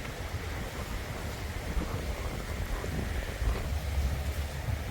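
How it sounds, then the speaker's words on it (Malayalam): Wind buffeting a microphone outdoors at a desert vegetable farm in Bahrain, a constant low rumbling roar with gusty swells throughout and no speech. "കാറ്റുള്ളതുകൊണ്ട് പറയുന്നത് വ്യക്തമായിട്ട് കേൾക്കാൻ പറ്റുമെന്ന് അറിയത്തില്ല"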